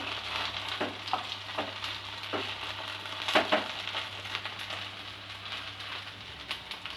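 Poha potato cutlets frying on a low flame give off a steady, soft sizzle with small crackles and pops throughout, close and continuous.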